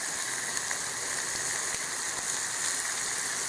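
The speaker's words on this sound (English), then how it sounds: "Nice bit of bacon sizzling there." Steady, dense crackling sizzle of bacon frying in a pan, continuous and close, with no voices.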